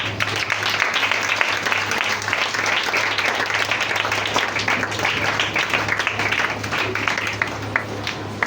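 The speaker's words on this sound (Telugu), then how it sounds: "ఆవిడ వచ్చి ఉండగా చప్పట్లతో ఆవిడని ఆహ్వానిద్దామండి" Sustained applause from a conference audience welcoming someone speaker, dense steady clapping filling the whole stretch at an even level, with a constant low hum underneath.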